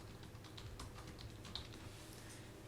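Fast, irregular keystrokes on a computer keyboard while a name is typed into a spreadsheet header, light clicks running steadily and close against a faint background hum.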